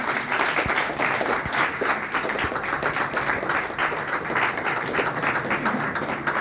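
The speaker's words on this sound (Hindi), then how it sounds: "पहले अर्पित दीक्षित जी जोरदार तालियां, अगर हो सके तो खड़े होकर उनका जोरदार तालियां" Loud, sustained applause from a standing audience greets Arpit Dixit at a network marketing and direct selling business event, dense clapping continuing steadily without pause.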